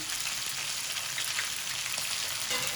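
Ginger garlic paste sizzles steadily in hot oil, a dense, even crackle held close and loud throughout with no voices.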